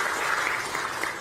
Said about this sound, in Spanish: fuerte aplauso también pido para él